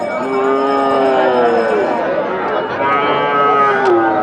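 Medium-sized local bull mooing at a Bangladeshi cattle market in Nilphamari: two long, loud, drawn-out moos, one starting the clip and a second near the end, with market crowd noise underneath.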